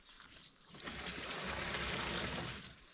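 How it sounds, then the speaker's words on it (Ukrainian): Water rushes into a tractor-mounted field sprayer tank while a crop-protection mix is topped up to volume, a steady splashing flow that swells and stays loud and close throughout. "Добавляю води до потрібного об'єму"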